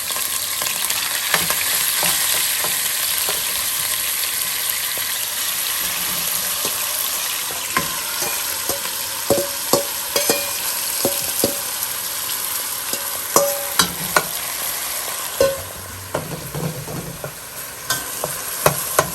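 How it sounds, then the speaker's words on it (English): Mincemeat fries in a pan for a pasta sauce with a constant close, loud sizzle, while a utensil stirs and scrapes in irregular knocks that grow busier toward the end. "And then I'll get all this mincemeat in it."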